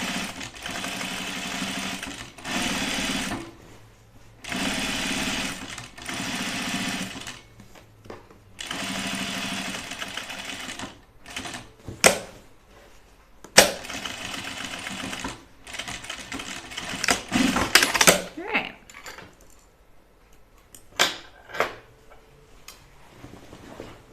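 Machine stitching on Cleo dungarees, Tilly and the Buttons pattern: long steady bursts of close, loud sewing-machine whirring, then shorter stop-start runs with clicks and handling knocks in quieter gaps.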